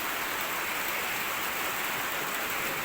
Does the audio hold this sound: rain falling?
yes